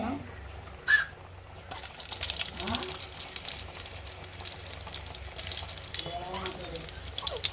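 Masala paste for a quail curry fries in a pan with a soft, steady sizzle beneath occasional stirring scrapes and a brief clatter near the start.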